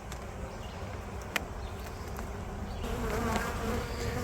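Honey bees at a hive during an inspection buzz in a dense, continuous hum, close and steady, with a few brief clicks and rustles, growing slightly louder near the end.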